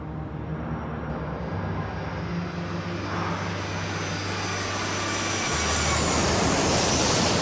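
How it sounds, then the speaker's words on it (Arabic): Airliner on Flight 123 climbing through clouds after takeoff from Tokyo, with a steady, loud engine roar and low drone that swells slightly louder toward the end, no voices. "الطيارة وهي كتحلق وسط السحاب"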